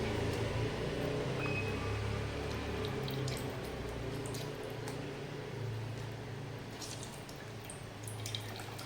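Soaked dahi bhalle lentil vadas are pressed gently by hand to squeeze out water, giving faint drips and soft squishes over a low steady background hum, quiet and close.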